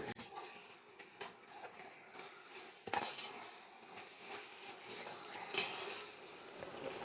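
Chicken biryani masala is stirred in a pan, with soft scraping and clinking of a utensil against the pan in irregular strokes, fairly quiet and close, with no talking.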